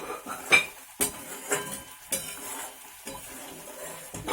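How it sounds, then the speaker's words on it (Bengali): Pre-fried paneer tipped into bubbling gravy in a pan, with a low simmering sizzle and a series of light clinks and scrapes of a spoon against the metal. "এবার ফুটতে শুরু করেছে, আমি পনিরগুলো ঢেলে দিচ্ছি।"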